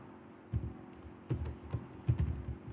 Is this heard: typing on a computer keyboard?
yes